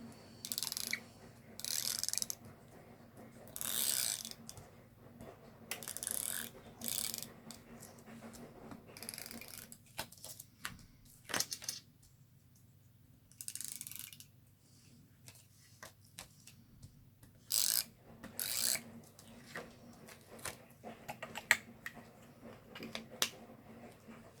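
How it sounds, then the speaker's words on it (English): A handheld tape roller runs adhesive across a paper craft book, heard as repeated short bursts of dry clicking and ratcheting rolls, close and fairly quiet, separated by brief pauses. "I am just going to use a tape roller."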